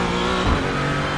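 A Porsche 718 Cayman GT4 engine in the iRacing simulator gives a brief, loud, steady drone with a rich harmonic buzz, heard alone.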